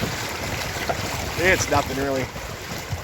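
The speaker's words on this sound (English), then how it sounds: "we hit some rapids here" River rapids rush past a kayak, a continuous broad roar of moving water and wind that fills the whole stretch while a person speaks briefly over it partway through.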